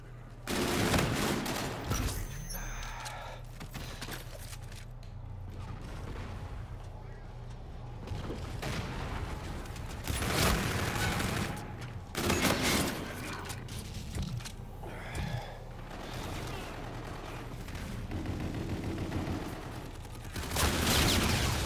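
Rapid gunfire from the Hornet weapon in an online shooter match, sustained bursts of shots crackling over a steady low rumble, with several louder volleys standing out amid continuous battle noise.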